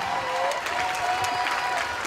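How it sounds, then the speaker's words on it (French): Spectators applaud steadily at a Krav Maga sports weekend event in Martinique, a continuous wash of clapping from a crowd, moderately loud and even, with a faint tonal whistle or voice running underneath. "Et c'est parti, les applaudissements s'il vous plaît."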